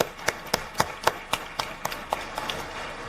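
Sharp, evenly spaced claps at a degree ceremony welcoming Kailash Satyarthi, about four per second, fairly close and gradually softening toward the end.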